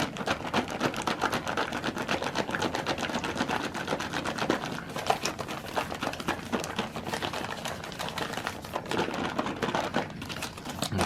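A Canadian military ration drink mix is shaken hard inside its pouch, a dense, continuous rattling and crinkling that keeps up steadily for about eleven seconds, close and fairly loud.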